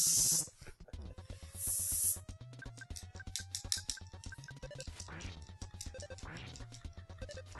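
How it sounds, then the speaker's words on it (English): Hissing spray paint attack sound effect from the EarthBound video game, a couple of bursts of bright hiss followed by chiptune-like beeping tones, with people talking over it. "Spray paint. It's spray paint as far as I can tell."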